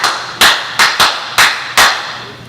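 Sharp percussive strikes tap out a traditional bell pattern, six crisp hits in an uneven, syncopated rhythm, close and loud with nothing else sounding.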